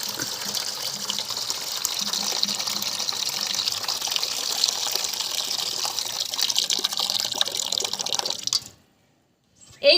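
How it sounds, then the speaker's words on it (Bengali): Warm water pours steadily into a basin, a continuous gushing splash like a running tap that lasts about eight and a half seconds and then stops abruptly, followed by brief silence and a small final sound. "এই যে এর ভিতরে কিন্তু উষ্ণ গরম জল দিয়ে দিচ্ছি বন্ধুরা।"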